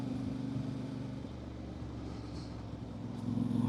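Voge DS 800 X Rally motorcycle engine in 4th gear with the throttle rolled off, a steady low engine drone that holds even and slightly swells near the end, no talk.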